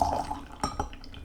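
Pu'erh or hongcha tea is poured from one vessel into another, a brief trickling pour followed by a couple of distinct drips and light clinks of ceramic.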